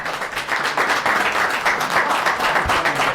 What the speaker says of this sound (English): no applauding, no applauding, no cheering